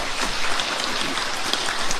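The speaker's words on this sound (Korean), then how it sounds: "아니면 아니라고 박수 한번 쳐주세요" A crowd at a mayor's New Year citizens' meeting in Seongnam claps steadily for two seconds, a dense, even patter of applause in an indoor hall.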